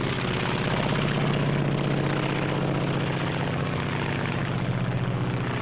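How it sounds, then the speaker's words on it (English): A Japanese Zero fighter aircraft drones overhead, a loud, continuous propeller-engine roar with a steady throbbing pulse that holds without pause throughout, heard in an old 1943 film recording. "This is the Japanese Zero."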